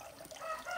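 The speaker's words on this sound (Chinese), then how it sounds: "有没有听到那个大公鸡啊？ 有好多大公鸡在叫哎！" Roosters crow in the distance in a Miao mountain village, a faint, thin call drifting over quiet background air with no voices.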